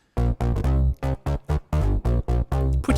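Bass guitar processed with EQ and distortion plugins, playing a punchy, fat, staccato line of short thick notes in a quick rhythm, loud and close without talking.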